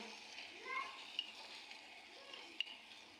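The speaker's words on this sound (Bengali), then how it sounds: "এই যে দেখেন আমাদের রান্না হচ্ছে" Khichuri cooks in a clay pot over a village mud stove, giving a steady, soft bubbling sizzle with a couple of faint clinks.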